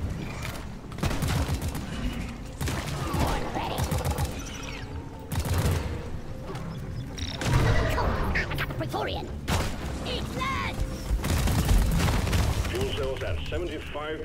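Gunfire crackles and booms in bursts during Deep Rock Galactic video game combat, with heavy shots and explosions under ongoing talk from players.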